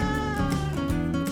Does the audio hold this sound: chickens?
no